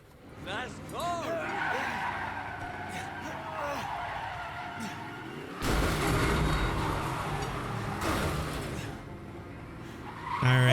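A car skids with squealing tires in Resident Evil 7, the screech rising and falling over several seconds alongside game sounds, with someone talking over it.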